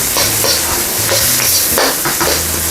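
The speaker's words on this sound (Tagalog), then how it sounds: "Sutayin na po natin ang ating onion o hanggang sa maging translucent siya" Brown onion sautés in a pan for egg noodles, a steady loud sizzle with repeated scraping stirs roughly every half second, no voices.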